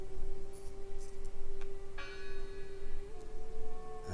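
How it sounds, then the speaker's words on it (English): A bell tolls in the video game Draugen, several clear resonant strikes ringing out with long sustained tones over low ambient rumble and game atmosphere. "I heard the bell."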